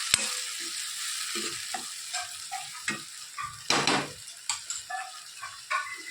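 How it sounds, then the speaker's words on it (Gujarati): Green chillies, tomatoes, onions and masala sizzle steadily in a pan, with repeated stirring scrapes and clinks of a spoon against the metal breaking through at irregular intervals; no talking. "સરસ મસાલો શેકાઈ રહ્યો છે."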